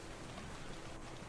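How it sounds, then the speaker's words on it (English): Acid rain pours down in ARK: Survival of the Fittest, a steady, faint hiss of falling drops with no voices over it. "acid rain"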